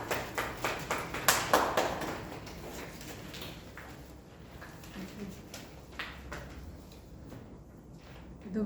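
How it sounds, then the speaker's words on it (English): Scattered hand claps from a small group at a Toastmasters club meeting, briefly lively for the first couple of seconds and then thinning into a low murmur of the room. "Applause."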